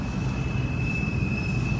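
CSX freight train with six engines passing, a steady rumbling roar of rail cars with a thin sustained high squeal over it, heard from close by.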